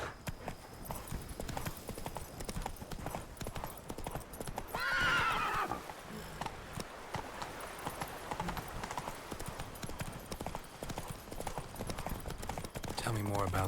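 In The Witcher 3 Blood and Wine, a horse gallops with steady clip-clop hoofbeats throughout and gives one clear whinny, with game speech and ambient sound around it.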